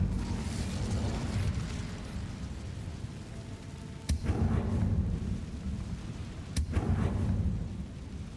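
The Incendio fire spell is cast in Hogwarts Legacy, giving two sharp, bright bursts that each bloom into a roaring whoosh over a steady, dense rumble of game ambience.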